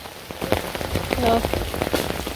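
Rain patters steadily on a surface close by, with a brief voice heard faintly underneath.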